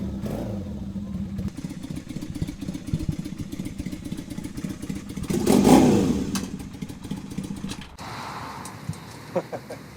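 A Honda CB400N motorcycle on its first ride runs with a steady rumbling engine throughout, swelling in a brief rev near the middle. The tone then shifts toward the end as the ride continues.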